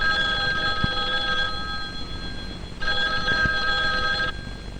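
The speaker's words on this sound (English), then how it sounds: "One day, a telephone rang." An old-fashioned telephone bell rings in two long bursts with a pause between, loud and clear over a faint hiss, as in an old film.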